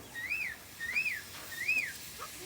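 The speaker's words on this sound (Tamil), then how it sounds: "டேய் சட்டு விசில் அடிக்கிறா." A pressure cooking pot whistling during dum biryani preparation in Jaffna style, three rising-and-falling whistle tones in a steady row, fairly clear over low background.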